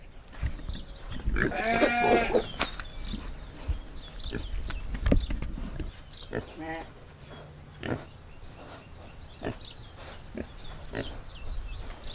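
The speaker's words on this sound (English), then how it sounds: "Well, pigs eat broccoli." Pigs feeding on a trailer load of broccoli on a farm, with grunts, squeals and snorts near and fairly loud, mixed with crunching and a person talking over the animals.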